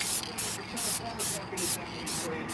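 Spray paint hisses onto a van with a cracked clear coat and decals in six short, evenly spaced bursts, each a brief loud rush with a quieter gap between.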